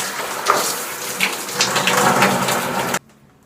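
Water runs and splashes while product is rinsed out of hair, a close, uneven rush for about three seconds that stops abruptly.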